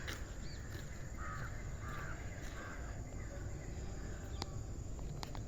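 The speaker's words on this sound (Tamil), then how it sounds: "எங்கே பார்த்தாலும் குருவி கத்துற சவுண்டு தான் எங்களுக்கு கேட்டுட்ருக்கு" Birds call repeatedly among coconut palms in a natural outdoor setting, faint chirps and caws scattered over a constant dense hiss of insects and ambient noise.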